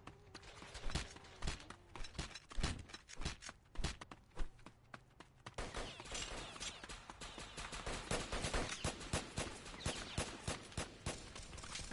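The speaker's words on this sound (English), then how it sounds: "Who's shooting at me" Roblox gunfire in a street-shootout game: repeated sharp shots and rapid bursts, some distant and some close, grow into near-continuous firing over footstep-like clatter and busy game noise.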